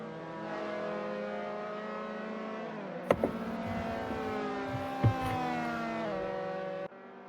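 Formula 3 race car in a racing game at Donington Park accelerating hard out of a left-hander, its high engine whine climbing in pitch, sharply cut by quick gear shifts and revving up again before falling away.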